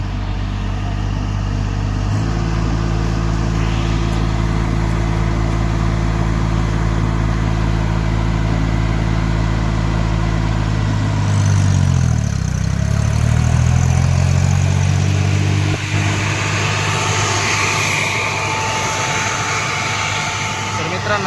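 Farmtrac Atom 30 hp tractor engine running steadily, loud and close, then its RPM drops and the tone sinks lower midway and settles into a slower idle.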